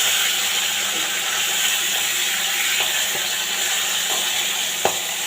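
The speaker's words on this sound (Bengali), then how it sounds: "মাছ ভাজা চলছে।" Pomfret fish fry in a pan with an even, continuous sizzle and faint pops, plus a couple of light clicks toward the end.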